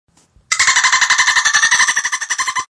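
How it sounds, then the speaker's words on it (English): A dolphin clicking playfully, a fast, loud run of rapid clicks in a bright, buzzing burst lasting about two seconds, heard alone. "It's the playful clicks of a dolphin."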